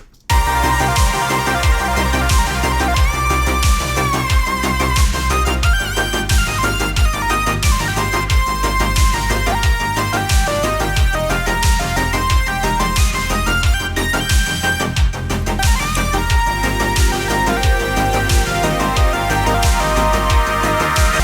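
A bright, buzzy raw sawtooth synth lead with no effects plays a fast continuous melody over a steady bassline, dry and loud, with no talking.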